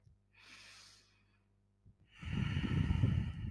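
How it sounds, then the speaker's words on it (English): A slow, deep breath drawn in softly through the nose, then after a pause a longer, louder exhale, close and alone in a quiet space. "Take a deep breath."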